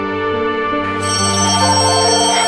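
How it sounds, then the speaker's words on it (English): A telephone rings loudly and steadily with a bright electronic warble, filling the short moment with no talk over it. "There's my phone."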